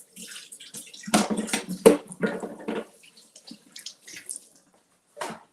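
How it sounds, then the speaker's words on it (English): Running tap water rinsing an air fryer part in a kitchen sink, a few close splashy gushes in short bursts with pauses between, fairly quiet. "Let me just rinse this off."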